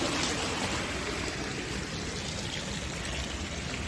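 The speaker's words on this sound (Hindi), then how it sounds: "देखो एकदम नदी जैसा है पूछी इतना तेज पानी आ रहा है यहाँ पे।" Fast floodwater from heavy rain in Bhopal rushes past like a river, a dense, steady, close roar of flowing water with no letup and no talk.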